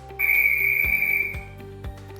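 A loud, steady electronic whistle tone from an LED multisport scoreboard panel sounds for about a second, followed by a few soft clicks or thumps, with no voices.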